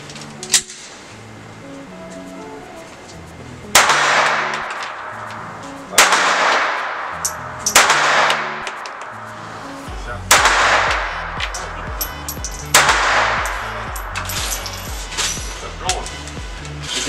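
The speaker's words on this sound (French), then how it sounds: "Donc 5 cartouches à 15 mètres" A Mauser 1934 7.65 mm pistol fires five sharp, loud shots at 15 metres on a shooting range, spaced a few seconds apart, with talk and background music underneath.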